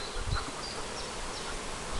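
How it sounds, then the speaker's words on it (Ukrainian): Honey bees buzz steadily at an apiary on a warm spring day, a dense, continuous drone of many insects close by with no voices. "Бджілки сьогодні працюють нормально."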